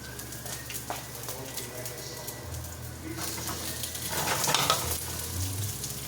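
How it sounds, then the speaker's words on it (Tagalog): Pre-cooked pork sautéed with garlic, onion and oil, a steady sizzle with spoon stirring swelling louder toward the end, with birds cooing in the background. "I saute with garlic, onion, oil."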